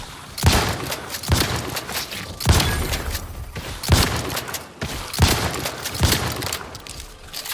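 Gunfire in the shooter The Outer Worlds 2 comes as six or seven loud, evenly spaced blasts, each with a sharp crack and a booming tail, with no talking.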